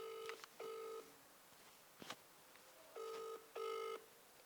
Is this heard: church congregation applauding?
no